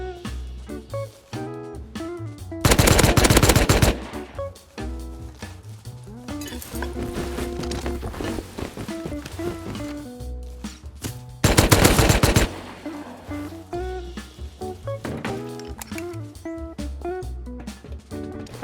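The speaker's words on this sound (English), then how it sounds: "there's some SAR shots popping off outside" SAR semi-automatic rifle shots ring out in the survival video game Rust. Two loud bursts of rapid fire stand out against a busy background of clinks and rattles, and there is no talking.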